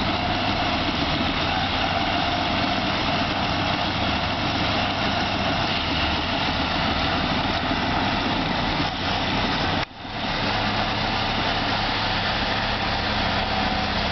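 Heavy construction machinery is building a dirt berm from a load of dirt. A constant low engine drone rumbles on steadily from a distance, with a brief dip near the end.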